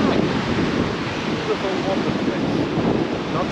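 Sea waves washing on a windy shore in Sweden, a loud continuous roar of surf mixed with heavy wind buffeting the microphone, steady throughout with no pauses.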